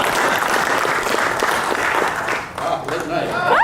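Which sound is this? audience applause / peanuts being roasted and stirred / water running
audience applause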